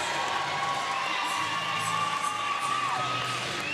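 Irish bench cheering at a women's curling match in the Ireland vs Scotland Small Countries Association Championship: faint, distant crowd cheers and whoops spread over a steady arena hum, with no talk.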